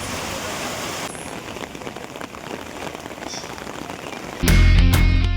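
Heavy rain pours down during a Tamil Nadu downpour, a dense, continuous hiss of drops hitting surfaces, with a louder rumbling burst rising over it near the end.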